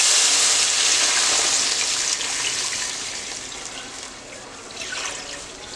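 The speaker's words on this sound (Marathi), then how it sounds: "यात आता दूध घालूया।" Milk pours into a cooking pan for rice kheer, a loud continuous splashing rush that slowly eases off, with no talk.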